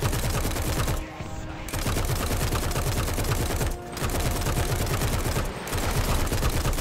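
Dense, continuous rapid-fire gunfire from the War Thunder video game, loud and close, broken by a few brief pauses between bursts.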